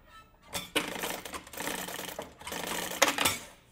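Short bursts of a sewing machine stitching along marked lines on an elastic-edged cosmetic bag, two or three quick runs separated by brief pauses, close and fairly loud with no talking.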